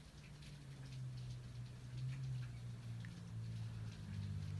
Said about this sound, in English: But that is the rain outside.